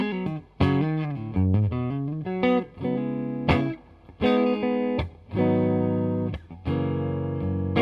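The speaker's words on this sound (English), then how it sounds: "I'm using my Strat on the neck pickup through my deluxe reverb." A clean Stratocaster on the neck pickup through a Deluxe Reverb tube amp plays chords and single notes with warm sustain, pausing briefly between phrases; no voices.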